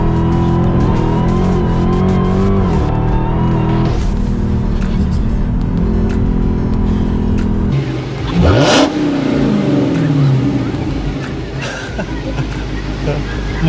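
Car engine revving and accelerating as it pulls onto a faster road, loud and close from inside the vehicle, with a sharp surge of roaring noise partway through and a passing whoosh, over background voices.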